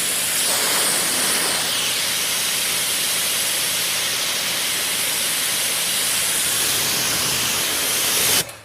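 Pressure washer spraying steadily through a newly replaced nozzle, a loud continuous broadband hiss that holds even for about eight seconds before cutting off abruptly at the end.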